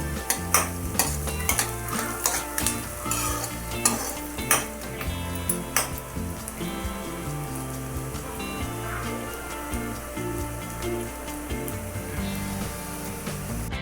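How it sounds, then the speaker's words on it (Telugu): Onions fry in oil until brown for bagara rice, a loud steady sizzle with bursts of stirring and utensil clinks against the pan, no one talking. "గోధుమ రంగు వచ్చేంత వరకు ఆనియన్స్ అయితే ఫ్రై చేయాలి"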